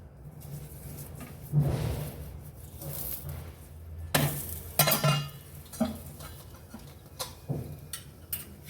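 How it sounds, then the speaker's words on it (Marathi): A stuffed radish paratha roasting in ghee on a hot griddle, pressed down repeatedly: a soft steady sizzle with several louder pressing and scraping bursts spread unevenly across the clip, no talk. "छान असा दाबून दाबून याला खरपूस भाजून घ्यायचा."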